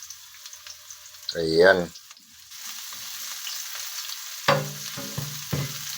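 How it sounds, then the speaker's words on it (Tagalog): Garlic sizzling in a little oil while being stirred: a steady close frying hiss runs throughout, with scraping stir noises, and a voice speaks briefly over it. "So, halo-haloin lang natin guys yung bawang."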